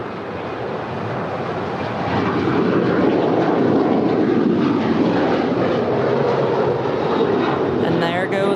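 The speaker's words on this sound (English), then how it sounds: "Speaking of which, it's a 4-year-old 737-900 ER." A four-year-old Boeing 737-900ER airliner departs LAX for Newark, its engine roar building from moderate to loud and staying strong and continuous.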